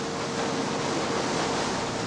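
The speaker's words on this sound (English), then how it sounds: "The only thing you hear is the swoosh of the wheel through the water." Continuous broad swooshing wash of river water churned by a sternwheeler's paddle wheel, steady and even with no breaks and no voices.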